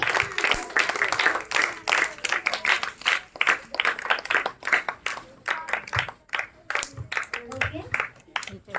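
A group of children clapping in steady, brisk bursts, with voices calling out over the applause.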